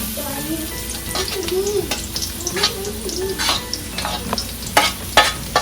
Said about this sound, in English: in a pan we have about 2 tablespoons of oil. We are going to add now about 4 cloves of chopped garlic